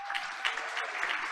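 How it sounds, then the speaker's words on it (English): A short burst of steady clapping and cheering from a crowd at a school board of education meeting, moderately loud and continuous. "let's keep the cheers and applause going"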